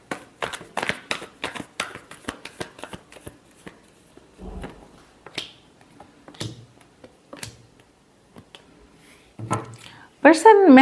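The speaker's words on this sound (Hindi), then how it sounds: "Last shuffle." Tarot cards being shuffled in a series of quick riffling, flicking bursts over the first few seconds, close and moderately loud, with a few scattered taps later and a person speaking in the background.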